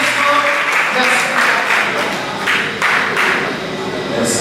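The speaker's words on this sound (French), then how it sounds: "Sur vos applaudissements, sur vos applaudissements, merci." Audience applause at a graduation ceremony at a vocational school, a dense, sustained wash of clapping from a crowd with voices mixed in, loud throughout.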